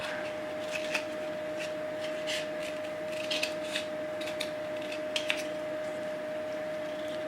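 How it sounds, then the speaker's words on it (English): Scissors snip at material being cut into bluebell shapes for an upcycled art piece, giving faint, irregular crisp cuts and rustles over a steady background hum, with no voices. "We're now going to cut this to make bluebell shapes."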